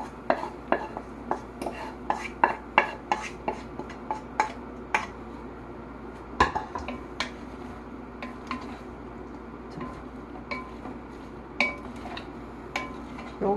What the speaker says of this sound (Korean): 이거를 다시 올려놓고 이제 볶은 재료들을 다 이제 섞어요